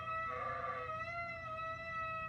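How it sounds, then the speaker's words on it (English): A ram's horn shofar is blown in one sustained, reedy, slightly nasal tone over about two seconds, with a brief buzzier swell near the start, heard alone and moderately close. "This is what the horn sounded like."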